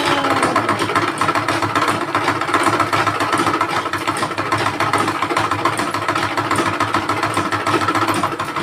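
An electric sewing machine stitching a pair of pants runs at close range, giving a steady, loud mechanical whirr that hums on without pause.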